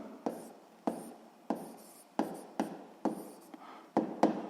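Pen or chalk writing down a physics formula: a steady series of about nine short, sharp scratching taps in an even rhythm, close and fairly quiet, with no talk over it.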